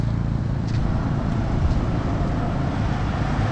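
Road traffic in Kampala produces a continuous broadband roar of passing cars, fairly loud and steady throughout with no distinct horns or voices.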